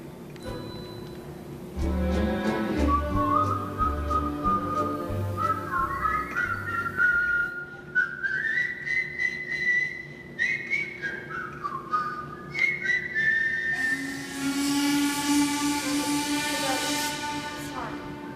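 A person whistles a wandering tune in clear, sustained notes that rise and fall over a low steady hum, with some background noise and faint voices near the start and end.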